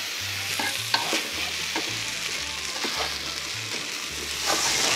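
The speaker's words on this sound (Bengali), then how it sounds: "এই চালের মধ্যে চালটা কিন্তু কন্টিনিউয়াসলি নাড়তে হবে যাতে পুরা না লাগে" Rice being stirred continuously in a pan while cooking chicken biryani, a steady scraping and rustling with a soft sizzle underneath, close and fairly quiet throughout.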